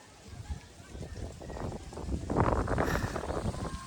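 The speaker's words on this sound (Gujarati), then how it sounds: "હાર પવન એટલો બધો આવે છે" Strong wind gusts on a hilltop during light rain, buffeting the microphone in a steady rushing roar that swells louder over the last half, with no speech.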